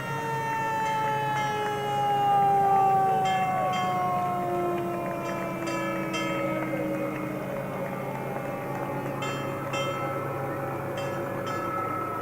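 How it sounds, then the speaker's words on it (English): A West Newbury fire engine moving in a town anniversary parade in Wilmington, Massachusetts sounds its siren, layered wailing tones sliding down and up continuously over a low engine drone, fairly close and loud throughout. "Fire engine from West Newbury."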